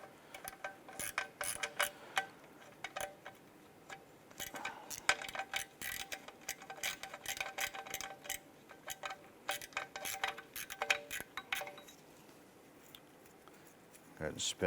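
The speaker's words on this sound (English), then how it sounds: "So I switched over to a gear wrench once we had those loose." Lug bolts on a 2012-2017 Toyota Camry spun out with a ratcheting gear wrench during a wheel hub job: rapid, close, dry metallic clicking in quick bursts, with brief pauses and a few sharper knocks.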